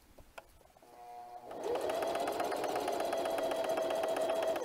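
A sewing machine stitches through material, starting after a short quiet lead-in with a few clicks, then settling into a steady, close, rhythmic whirring hum that runs evenly to the end.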